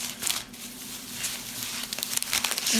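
Plastic candy bag crinkling as it is handled, with irregular crackling rustles that come in bursts and grow busier toward the end, heard close with no talk.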